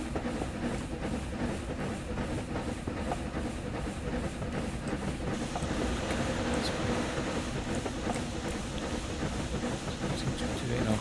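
An S&DJR 7F steam locomotive in Train Sim Classic chugs along steadily, climbing a 1 in 50 gradient, with a continuous rumbling, rhythmic huff and faint hissing, loud and close throughout.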